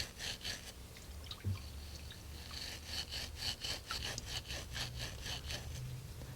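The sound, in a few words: wire kitchen scrubber scrubbing glue off wooden tenon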